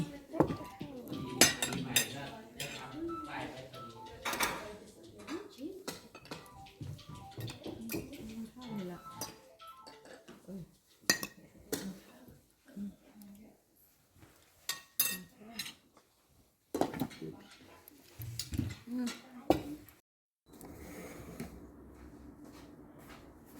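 Cups, plates and cutlery clatter and clink as dishes are washed in a kitchen at a Thai temple in England, with bursts of handling noise, pauses, and people talking throughout.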